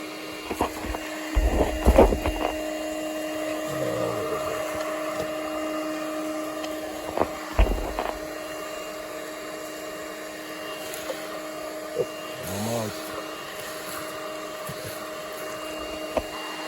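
A vacuum sucks baldfaced hornets out of a nest with a constant whining motor drone. Knocks and rustles rise over it a few times, and a short murmur of voice comes through late on.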